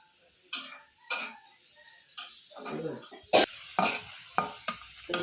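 Garlic and onion frying dark in a pan on an outdoor stove, with repeated spatula scrapes and stirring strokes coming every half second or so over a soft sizzle.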